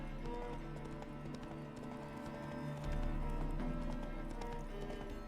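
Roach the horse's hooves clip-clop in a steady rhythmic gait in The Witcher 3, close and clear over a low droning game soundtrack, with no talking.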